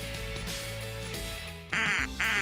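Two loud, nasal duck quacks in a radio advertisement for an air-conditioning company, following a stretch of steady background music.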